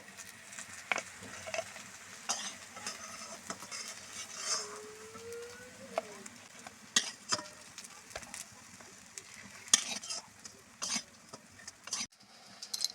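Drumstick flower fritters are lifted one by one from hot frying oil, with soft sizzling, patter and scattered utensil taps and scrapes at close range, and a brief clink near the end.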